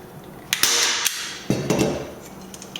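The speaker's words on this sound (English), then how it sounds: "I'll just staple it like twice because I don't think it's going to need that many staples" Two sharp staple-gun shots fasten fabric snugly for a DIY jewelry organizer, each a loud close snap followed by a brief rustle of handling.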